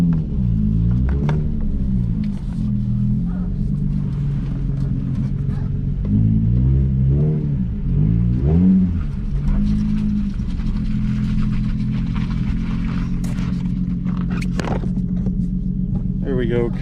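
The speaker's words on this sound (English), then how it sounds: "Perfect time to go for a test drive in 5 o'clock traffic" A drift car's engine rumbles and revs steadily while driving through heavy rush-hour traffic on a hot day, with the engine note rising and falling throughout and people talking over it.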